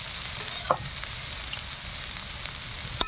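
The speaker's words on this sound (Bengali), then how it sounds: "আর একটা ছিল যে ভাজছি খুব সুন্দর লাল লাল করে ভাজা হয়ে গেছে" Cabbage frying in a pan on a village kitchen stove, a steady close sizzle with a couple of sharp scraping stirs of the spatula breaking through.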